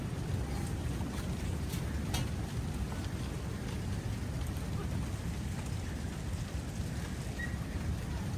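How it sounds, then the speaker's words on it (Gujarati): Heavy rain pours down in a steady, even hiss that stays constant throughout, fairly soft and with no other sounds standing out. "વરસાદ શરૂ છે ને"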